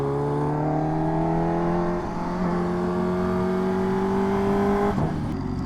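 Kawasaki Ninja H2R with a carbon body running steadily at idle, a loud, continuous engine drone with stable tones that dips briefly near the end.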